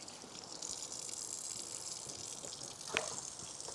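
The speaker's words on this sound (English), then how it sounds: "I'm gonna wash my hands again." Hands are washed under a running kitchen tap, a steady close gush of water with one brief louder splash near the end.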